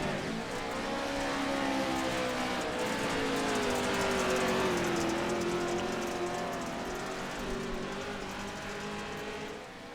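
A Pro 2 Lite off-road race truck's engine drones steadily and loud from onboard, its pitch rising and falling with throttle as it runs the track toward a jump.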